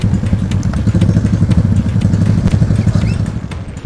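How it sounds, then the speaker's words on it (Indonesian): Motorcycle ridden along a damaged, muddy rural road in Tobadak, Indonesia, its engine putting out a loud, steady, close putter with clattering bumps throughout. "Perjalanan motor dari pusat Kecamatan Tobadak menuju ke desa tujuan ternyata tidak terlalu jauh, hanya sekitar 30 km."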